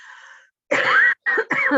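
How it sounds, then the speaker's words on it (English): A person coughs a few times in quick, harsh bursts, close and fairly loud, with a brief raspy throat sound before. "constantly coughing"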